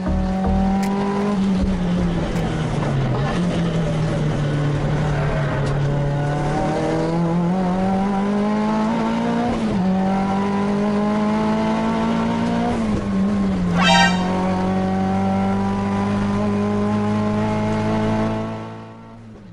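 A 1989 Nissan 200 SX S13 time attack race car laps Mantorp Park Raceway, its engine droning loud and close with rising and falling revs through gear changes and a brief sharp burst midway, fading out at the end.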